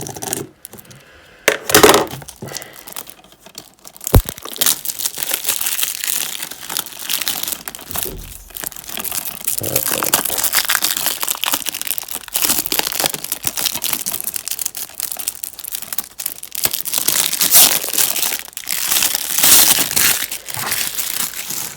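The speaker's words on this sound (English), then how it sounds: "Got my scissors and cut from side here." Scissors snip and slice through the plastic and cardboard packaging of a boxed PS4 game, Call of Duty Modern Warfare III, producing close crinkling, crunching and tearing bursts in irregular runs.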